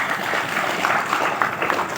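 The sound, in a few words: audience clapping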